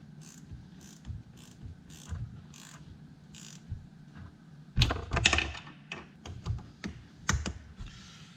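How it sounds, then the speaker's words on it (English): Air filter clamps are tightened back down on a 1999-2007 Chevy Silverado during an alternator replacement, with quiet rhythmic clicks followed by sharper metallic clacks and rattles up close. "Just getting the air filter clamps back down."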